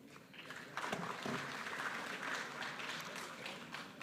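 An audience at a Johannesburg city council meeting applauds, swelling to a steady, dense patter of clapping that holds to the end.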